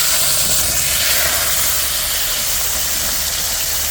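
Marinated bangus (milkfish) belly sizzles and splatters in hot oil, a loud, dense, steady hiss close by with no one talking.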